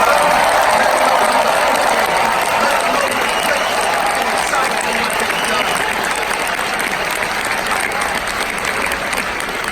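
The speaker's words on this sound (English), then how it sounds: "if you could just applaud your graduates right" Families and guests at a USC Marshall School of Business undergraduate commencement ceremony applaud the graduates, loud sustained clapping from a large crowd that holds steady and then eases slightly.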